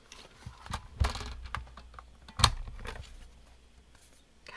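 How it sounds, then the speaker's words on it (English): Die cut machine running over a crafting table, giving a quiet mechanical whir with a few scattered clunks and one sharp knock partway through, close by and without talk. "I'm just going to run this through my die cut machine"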